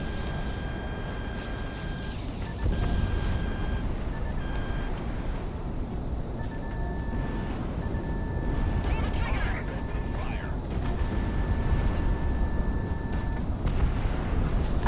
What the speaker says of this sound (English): I love the sound of explosions in the morning,